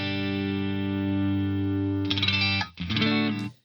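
Electric guitar through a Boss Katana amp set up to mimic the MXR Rockman X100 tone: a long sustained, chorused and lightly distorted chord rings steadily, then a few quick re-strummed chords follow with a brief gap, heard alone.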